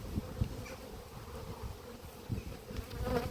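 Honeybees buzz around an open apiary hive, with a low, steady, close droning hum that swells and fades slightly as insects move nearby.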